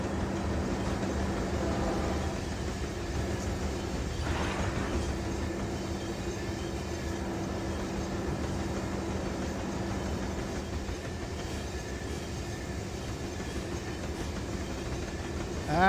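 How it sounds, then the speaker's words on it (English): Loaded coal unit train in the Run 8 train simulator rolling steadily past, a continuous heavy rumble with low wheel drone and faint clickety-clack throughout, no talking. "That's a hell of a unit train there."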